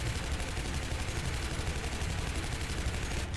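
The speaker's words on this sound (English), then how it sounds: "Fill it full of bullets, I guess." Sustained rapid gunfire from the first-person shooter Shadow Warrior on PS4, a dense, steady rattle of automatic shots at even loudness throughout with no pauses.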